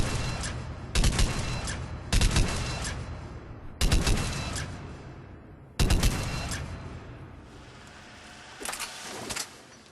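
Argus rifle gunfire in Mass Effect 3, fired in about six separate short, sharp bursts spaced a second or two apart, each loud and close with a decaying tail.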